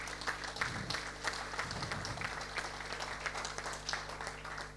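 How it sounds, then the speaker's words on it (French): Scattered clapping rises from a conference audience at a closing ceremony, fairly faint and uneven beneath a low steady hum, with a few louder claps standing out. "On peut les applaudir, même s'ils ne sont pas là"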